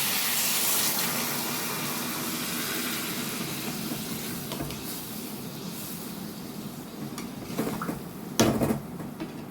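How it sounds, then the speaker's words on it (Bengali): Water runs into a pan of fried potato, eggplant and tomato with a continuous hissing pour, followed by a few clinks and scrapes of a utensil against the pan. "এবার আমি পরিমাণ মতন জল দিয়ে দেব"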